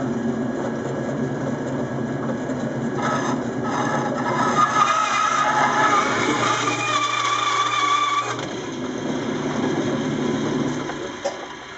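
A jointer with freshly sharpened blades planes pinned-together guitar body blanks for a Les Paul, giving a steady, close machine drone with a shifting cutting rasp through the middle that eases off near the end.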